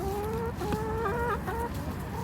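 Chickens cluck and murmur continuously nearby while scratching at corn spread on the ground in winter, several overlapping calls rising and falling over a constant background hum.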